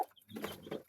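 Young pullets and cockerels clucking and calling in a burst of short, close, fairly loud calls, with no people talking.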